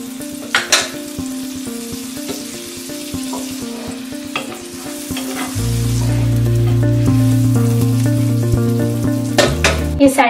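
An egg mayo sandwich grills in butter on a pan, giving a loud, steady sizzle and frying crackle close up, which swells as more butter is added partway through.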